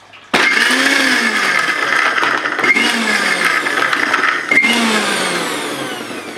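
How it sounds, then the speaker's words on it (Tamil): A mixer grinder blends onion, garlic, chilli, ginger and curry leaves in three loud, close whirring bursts, each rising in pitch and separated by brief stops, with no talking. "ஆன்டி கிளாக் வைஸ் ஒரு 10 செகண்ட்ஸ் இதை அரைச்சிக்கோங்க"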